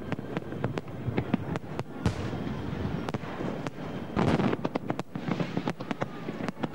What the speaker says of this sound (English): there's still nothing to beat a firework display